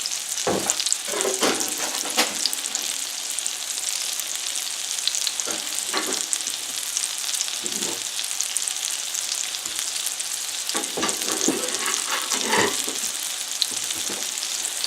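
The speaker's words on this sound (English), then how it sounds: "Alright, so they're frying." Steady crackling sizzle of green tomatoes frying in hot oil, with occasional louder pops and bursts, close by and continuous with no talking.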